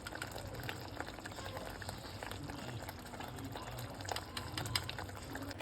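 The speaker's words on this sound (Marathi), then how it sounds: "हा मसाला चांगला आपण फ्राय होऊ देऊ" Homemade masala for palak paneer cooks in a pan, giving a soft, continuous bubbling sizzle at low volume with scattered small pops.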